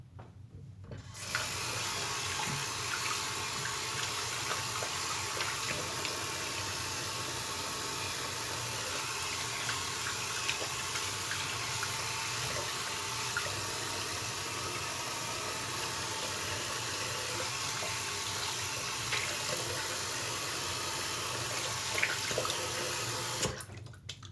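Steady broadband rush of tap water running into a sink for rinsing after a shave, continuous and fairly close from start to end with no talking.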